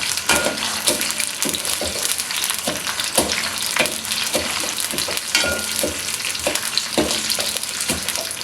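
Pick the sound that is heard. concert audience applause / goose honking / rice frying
rice frying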